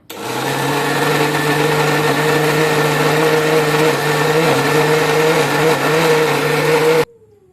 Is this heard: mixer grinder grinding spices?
yes